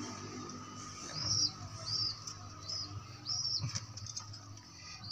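A blue bar pigeon gives repeated soft cooing calls amid brief chirps and a flutter of wings, close by and fairly quiet against low background noise.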